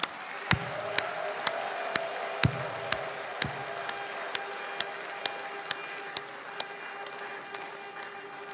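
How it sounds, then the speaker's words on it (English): Audience applause at a Biafra declaration event, a crowd clapping under a steady hum with several sharp, isolated claps standing out at irregular intervals. "another hands of applause for Mr. Dodd."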